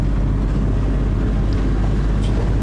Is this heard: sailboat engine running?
yes